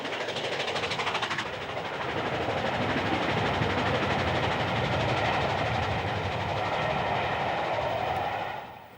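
Stanier Pacific steam locomotive Queen Mary hauling a train at Shap, a loud continuous rushing roar of the passing train with rolling wheel noise that fades at the end.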